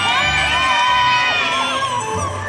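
A large crowd at a shopping mall's Lunar New Year opening ceremony claps and cheers continuously, loud and dense, with shrill whoops and children's shouts rising above the roar.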